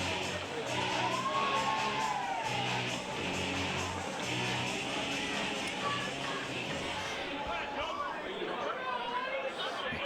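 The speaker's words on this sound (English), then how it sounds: "Crowd's starting to get a bit involved now as well." Crowd chatter and scattered cheers and whoops fill a snooker hall during a shootout semi-final, a steady murmur with a commentator talking over it.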